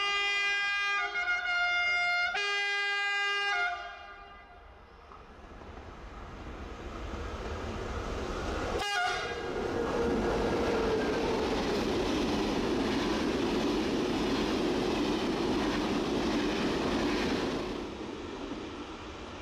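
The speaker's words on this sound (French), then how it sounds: "nous avons eu l'opportunité de filmer la rame TGV Sud-Est numéro 16, acheminée par la CC 72074 sur la ligne Paris-Granville" A TGV Sud-Est trainset hauled by a CC 72074 diesel locomotive on the Paris-Granville line at Verneuil-sur-Avre station sounds its horn in two loud blasts, then passes close with a sustained rumble and rolling wheel noise that slowly fades.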